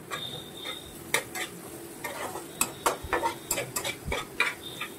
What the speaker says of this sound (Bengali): এগুলিকেও আমরা কিছু সময় ধরে ভেজে নেব। দেখুন, রসুন ও আদাটিকেও যোগ করে দিলাম।